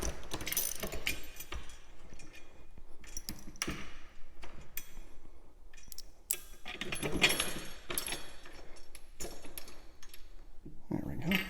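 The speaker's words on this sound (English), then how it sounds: "We take the back bolts off." Ratchet removing the back bolts from the legs of a pinball machine during setup, a series of close, quick clicking bursts and metallic rattles spread across the stretch, with a person talking in between.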